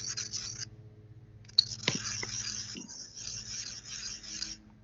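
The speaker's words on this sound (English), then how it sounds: "And you can hear that grinding, right?" A graphite lead tip rotated against a grinding surface, producing a faint, dry rasping scrape in short bursts with a sharp tick near the middle, recorded close in a quiet room.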